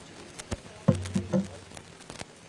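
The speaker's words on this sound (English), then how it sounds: "Probably the rain." Rain patters on a microphone, a few irregular soft taps and thumps at close range, faint and sparse amid low background noise.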